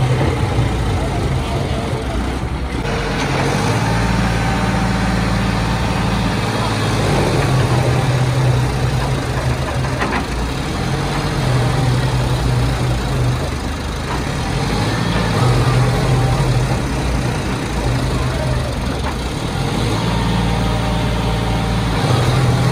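A modified tractor engine idles with a steady, loud, low rumble that runs unbroken throughout, with voices faintly mixed in.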